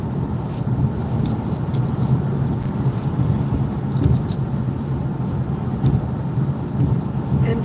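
A car traveling from Colorado Springs to Gunnison, Colorado, is heard from inside the cabin as a steady low road and engine rumble, with faint rattles and ticks over the drone.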